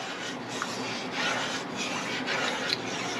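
A spoon stirs a dark gumbo roux in a pot as it cools off the heat, producing a steady, close scraping and rubbing with soft rhythmic swells and no talking.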